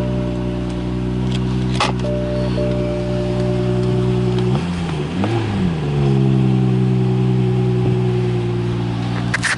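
A 2015 BMW 435i convertible with a 3.0-litre turbocharged 24-valve six-cylinder rated at 300 hp cranks and fires up. The engine revs briefly, then settles into a steady, close, loud idle with no talk over it.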